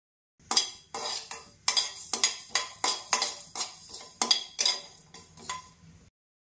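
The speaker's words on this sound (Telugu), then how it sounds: "స్టవ్ మీద ప్యాన్ పెట్టేసి అది కొంచెం హీట్ అయిన తర్వాత మెంతుల్ని వేయించుకోవాలి" Dry fenugreek seeds are stirred in a hot pan on the stove, a close series of about a dozen rhythmic scraping clinks of utensil on metal, alone.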